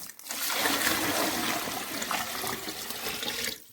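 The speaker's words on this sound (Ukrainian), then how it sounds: "І потім заливаємо 5 літрів, 5 літрів водички." Five litres of water pouring from a tap into a container for a marigold fizzy drink, a continuous rushing splash that starts abruptly and stops after a few seconds, close and alone.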